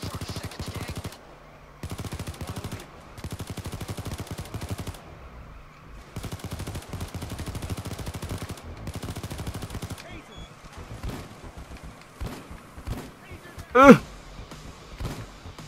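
The player's gun in the video game Payday 2 fires in long rapid automatic bursts, loud and close, separated by brief pauses, before scattered single shots and one sharp louder crack near the end.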